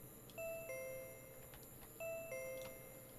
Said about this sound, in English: Our doorbell is going friggin' nuts right now?